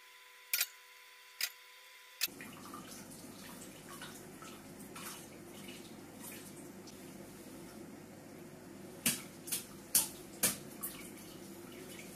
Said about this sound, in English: Pour 3 litres of water over bag A, allowing it to drain through.